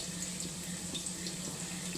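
Tap water runs steadily into a sink, with soft splashing as rice is rinsed under it.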